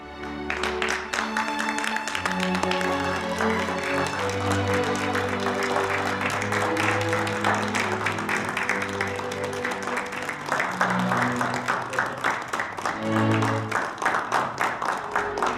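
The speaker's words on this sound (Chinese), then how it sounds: "我们用热烈的掌声" An audience breaks into warm applause to welcome the guest Chen Yanshi, a steady wash of clapping that runs on beneath a tonal music bed with no voices.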